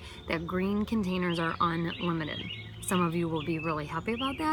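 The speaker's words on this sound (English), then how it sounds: "Sorry about the birds in the background." Birds chirp outdoors behind someone talking at length, their high calls faint and partly masked by her voice.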